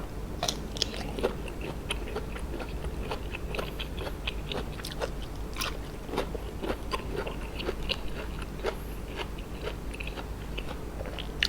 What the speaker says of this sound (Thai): หนไม้กรอบกรอบครับ